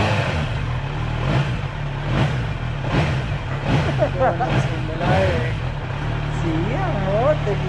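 A Kawasaki Z900 motorcycle engine revs in several short bursts nearby while people talk and exclaim over it.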